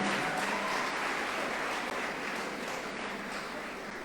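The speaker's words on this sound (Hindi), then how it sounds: "एक बार इन लोगों के लिए जोरदार तालियां होनी चाहिए।" Audience applause at a career-guidance event for young people, a steady dense wash of clapping that stays loud and even from start to finish with no talk over it.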